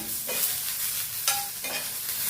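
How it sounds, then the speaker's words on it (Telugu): Coriander seeds fry in a pan with a continuous close sizzle, broken by a few scraping stirs of a spoon. "హాఫ్ స్పూన్ ధనియాలు వేసేసుకొని వేగనిచ్చాలి"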